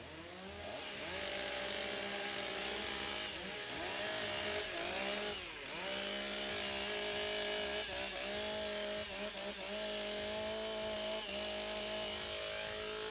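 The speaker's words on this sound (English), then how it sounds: "Warm up the saws." Several STIHL chainsaws warming up at a timbersports championship, loud overlapping engine drones with revving pitch swings, continuous throughout.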